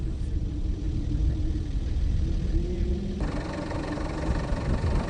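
An off-road vehicle crosses the Sahara desert in Algeria with a steady, low engine rumble. The drone stays constant, and its tone shifts partway through.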